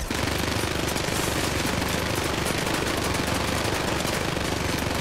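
Sustained automatic gunfire from an enemy in the video game Syndicate, a dense, unbroken rapid rattle of shots that stays loud and close for the whole stretch, with no talking.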